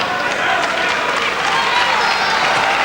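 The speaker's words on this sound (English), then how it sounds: "he gets an appreciative clap from the crowd for getting out of that corner so cleverly" Boxing crowd claps in appreciation for Lloyd Honeyghan slipping out of the corner against Jorge Vaca, a dense, steady wash of applause and crowd noise with no pause across the moment.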